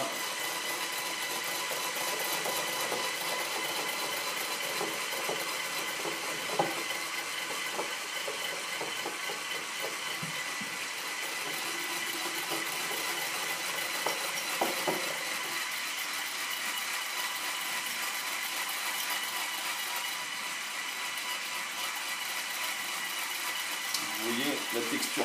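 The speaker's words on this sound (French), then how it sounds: "C'est un petit peu le batteur." An electric hand mixer whips mayonnaise in a kitchen, a continuous thin whirring buzz running steadily at low volume throughout, with occasional clinks of the beaters against the bowl.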